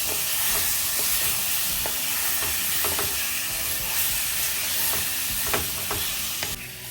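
Spices cooked down with garlic and ginger paste in a pan, a steady broad sizzle and hiss running throughout with faint stirring scrapes and clicks now and then, no voices.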